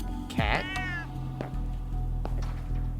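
A cat lets out one drawn-out, rising meow close by, followed by a few faint shuffles and clicks against a low steady background hum.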